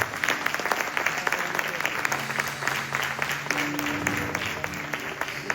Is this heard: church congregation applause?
yes